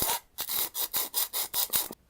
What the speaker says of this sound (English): So if I take my sanding stick, 220 grit sandpaper, and I can just start along where this ridge line is